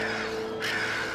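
Birds give a short caw in the Final Fantasy XIV game world, a single rough call over a steady ambient background.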